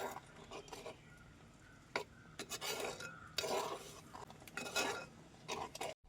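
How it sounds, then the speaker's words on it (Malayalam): A spoon stirs mango pulissery, a Kerala yogurt curry, in a pot, giving quiet scraping and clinking strokes in an irregular rhythm, close but soft, with no talking. "ഇനി ഒന്ന് ഇളക്കിയേക്കാം"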